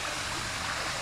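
Water rushes and trickles over rocks at the top of a waterfall in Tetebatu, Lombok, a dense, steady broadband hiss heard close and alone for about a second.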